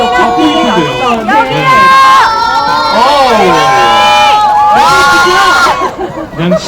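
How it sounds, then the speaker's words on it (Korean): Fans at the 46th Blue Dragon Film Awards red carpet let out loud, shrill screams and cheers, with high-pitched voices rising and falling in waves and swelling sharply at several moments, close and intense throughout. "손만 돌려도 이렇게 환호성이 나옵니다."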